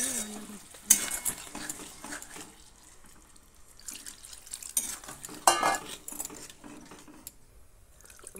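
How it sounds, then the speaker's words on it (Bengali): Chicken curry with potatoes is stirred in a pot with added water, a spoon scraping and clinking against the metal amid wet sloshing, close up, with a few sharper knocks. "সব কিছু ভালো করে আমি মিশিয়ে নিচ্ছি"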